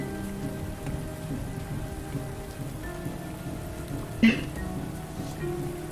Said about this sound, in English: There's only the sound of the rain